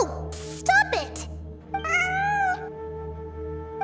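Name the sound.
cat meowing in the video game Genshin Impact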